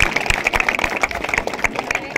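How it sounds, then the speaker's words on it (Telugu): An audience applauds at a prize announcement for a women's muggulu (rangoli) competition. Dense, rapid clapping from many hands carries for a couple of seconds at moderate loudness. "చప్పట్లు కొట్టండి."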